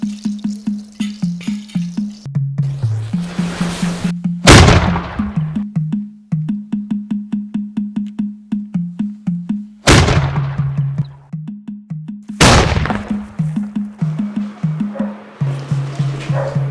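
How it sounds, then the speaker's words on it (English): Cannon fire at a royal court: three sharp, booming blasts, each decaying slowly, burst out at intervals over a steady rhythmic drumming beat. "And now the cannon."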